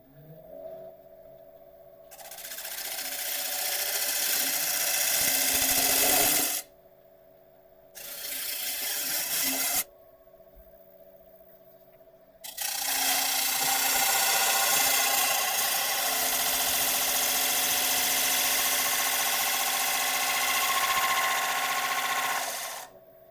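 A wood lathe spins a turned piece as a tool thins its wall, steady motor whine joined by loud scraping bursts of cutting, broken by short pauses where only the quieter hum remains.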